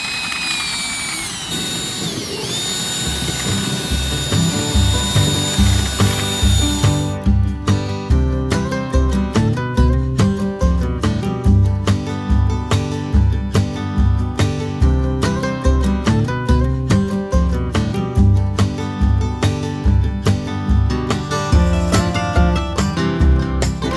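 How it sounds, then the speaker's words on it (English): A power drill fitted with a mixing paddle churns stucco in a bucket, a loud whining motor that pulses rhythmically as the paddle works the mix, running nonstop after a short start-up. "Then he has to put this end on his drill and mix it all up."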